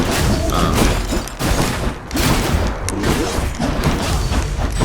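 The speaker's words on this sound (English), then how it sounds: "that's a new monster coming in" A dense, noisy burst of Hades game sound effects as a new monster appears, rumbling thuds and crackling impacts layered loudly together, continuous with brief dips.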